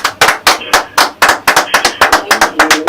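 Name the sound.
applause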